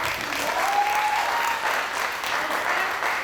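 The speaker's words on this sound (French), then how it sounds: "Applaudissons et félicitations." Audience at a women's slam poetry competition clapping steadily, a dense continuous round of applause filling the space with no one speaking.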